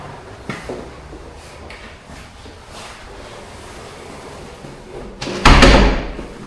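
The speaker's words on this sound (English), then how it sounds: "ringers normally enter via a door at the western side of the tower." A door at the western side of a church tower is opened, giving a few creaks and knocks followed by a loud thud and rattle near the end, with no talking.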